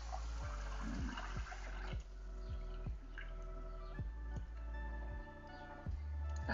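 Water swirling over sticky rice being rinsed in a bowl for mango sticky rice, with repeated sloshing splashes and handling thumps at a roughly regular pace, close and fairly quiet.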